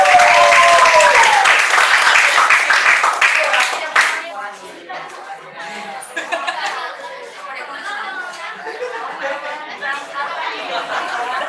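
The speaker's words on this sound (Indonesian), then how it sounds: "Silakan tepuk tangan untuk kelompok 3" A burst of applause from a classroom audience for about four seconds after a group presentation, then fading into murmured chatter and scattered laughter.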